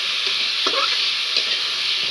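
Fish fries in a pan with a steady, bright sizzle of hot oil, soft crackles and a few light stirring scrapes over a constant hiss.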